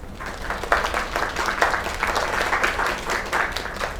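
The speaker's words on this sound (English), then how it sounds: "Another round of applause." An audience in a video game breaks into steady, dense applause that holds for several seconds without a break.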